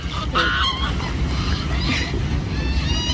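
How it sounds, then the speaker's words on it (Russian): Geese honk loudly and repeatedly over a steady outdoor wash of water and wind, close by, in a park beside a lake in Buenos Aires. "Здесь вот тоже гуси."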